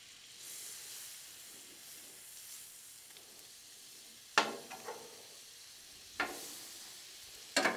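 Hash browns fry on a griddle with a soft steady sizzle, broken by a few sharp scraping or clattering hits, with no voices.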